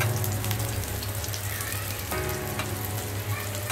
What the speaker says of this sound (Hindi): एकदम लाल करके एकदम सैलो फ्राई करके लेना है हमें